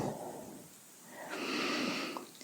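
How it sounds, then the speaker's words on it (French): Someone doing a sophrology belly-relaxation exercise takes a slow, audible breath in through the nose, then a quieter pause, followed by a stronger nasal intake with a faint snort-like rush of air. "Je reprends ma respiration."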